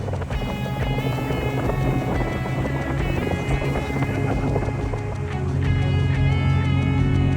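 A steady droning boat engine hums loudly and continuously on the Yukon River, with rushing wind and water noise over it and no voices.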